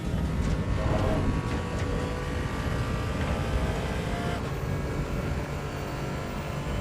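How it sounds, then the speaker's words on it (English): A rough, droning race car engine, damaged and running in a video game, runs steadily with a ragged, uneven rumble and some rattling, fairly loud throughout. "Car does not sound good."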